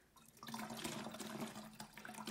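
Liquid pours steadily into a container for a light-up winter snowman craft, with a soft continuous splashing trickle that is fairly faint and has no talk over it.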